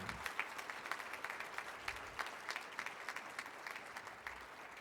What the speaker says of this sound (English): Can we give our teachers another round of applause, the teachers in this room?